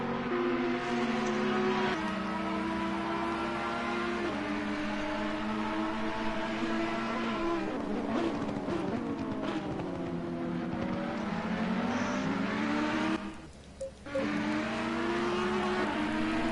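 Ferrari and Audi race cars drive through a slower section and the S's in a racing game, their engines wailing continuously in close succession. The pitch rises and falls as the cars shift gears and accelerate, and the sound briefly dips near the end.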